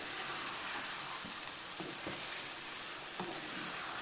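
Chicken handi masala frying in a pan, a soft, even sizzle running throughout with a few faint stirring scrapes, quiet and steady, no talk.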